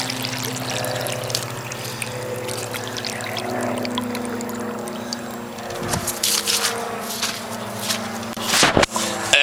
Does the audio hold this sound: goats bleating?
no